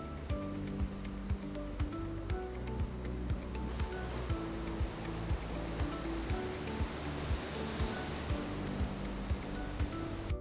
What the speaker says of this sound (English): the sound of the waves right outside the window